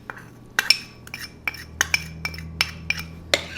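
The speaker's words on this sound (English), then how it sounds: "Give it a quick stir." A spoon quickly stirs seasonings, spices and lemon juice in a bowl for air fryer wing sauce, giving a run of bright, close clinks against the bowl at an uneven, brisk pace.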